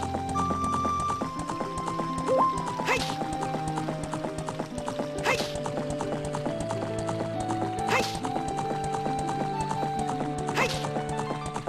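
Riding the horse Epona in Ocarina of Time Master Quest produces steady, rhythmic clip-clop hoofbeats over melodic game music, with a sharp burst recurring every few seconds.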